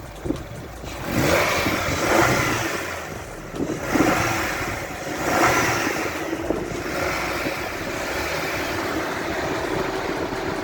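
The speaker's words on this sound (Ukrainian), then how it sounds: "Трошки погазуємо" A Nissan Rogue's naturally aspirated 2.5-litre petrol engine revved under an open hood, rising in several throttle blips over a steady idle, close and fairly loud with some wind noise.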